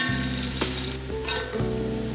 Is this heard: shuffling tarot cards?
no